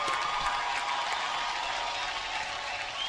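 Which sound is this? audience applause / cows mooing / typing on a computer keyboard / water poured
audience applause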